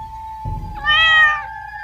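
A cartoon kitten gives one clear, high, drawn-out meow, close and loud, rising out of a quiet steady background tone.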